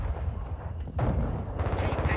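Bursts of gunfire in a Modern Warfare II match, a rapid string of shots that breaks off and then resumes, with faint game sounds underneath.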